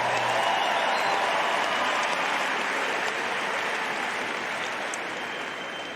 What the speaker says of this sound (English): One more round of applause for our two players.